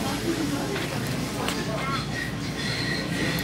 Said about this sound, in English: This train is for YVR Airport.